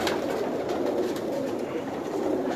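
Pigeons of a breeder's loft in Sialkot coo steadily and densely throughout, a continuous murmuring chorus of many birds close by.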